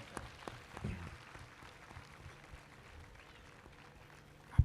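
A crowd at a community family reunion celebration in Surat applauds guests and donors with a diffuse, fairly quiet patter of clapping that comes from a distance and holds steady through the moment.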